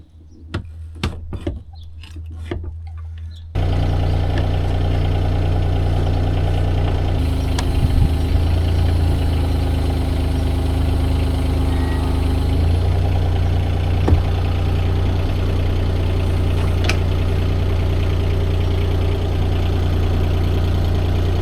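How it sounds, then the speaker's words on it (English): Excavator engine starts and settles into a loud, steady idle close by while holding an outboard motor, a low continuous rumble with occasional faint clanks over it. "So I've got the excavator taking the weight of the motor."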